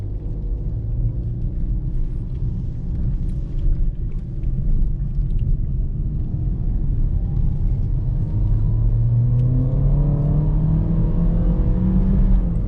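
A 2020 Toyota Vios XLE with a CVT accelerates, heard from inside the cabin as a low, steady engine drone and road rumble whose pitch climbs smoothly toward the end.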